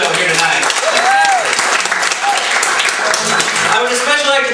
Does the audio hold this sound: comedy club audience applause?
yes